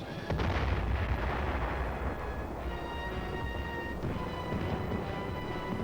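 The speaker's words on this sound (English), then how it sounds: "the artillery and mortar units inch their fire slowly forward, wiping out opposition from the path of the tanks and the infantry" Artillery and mortar fire from a combat team's supporting units rolls in as a heavy, continuous rumbling barrage, with dense low booms layered over one another for several seconds and no voices.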